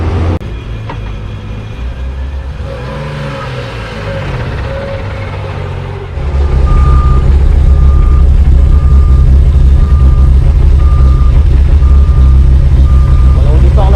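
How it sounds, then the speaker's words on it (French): A BMW M3 E46 track car pulls away onto the circuit at a track day, its engine rumble jumping loud and deep partway through, while a regular electronic beeping repeats in the background. "la M3 E46, notre ami suisse qui est reparti pour un petit tour de circuit avec son pote"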